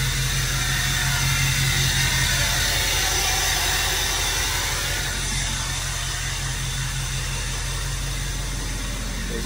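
Ford F250 truck engine running with its turbo spooling on a cold day, a steady broadband whoosh and whine over a low idling rumble, constant and close.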